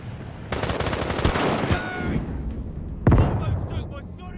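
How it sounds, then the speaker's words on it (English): Artillery and automatic fire in a modern war video game, a loud rapid rattling burst followed by a heavy deep boom, with the action recurring in the distance. "our artillery is commencing fire"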